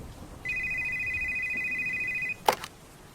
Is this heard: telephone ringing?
yes